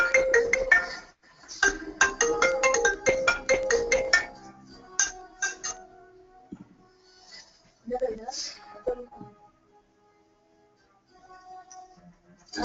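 A phone ringtone plays in an office-type setting during a software training session, a rapid repeating chime pattern through the first few seconds, then quieter intermittent tones with a voice talking in between.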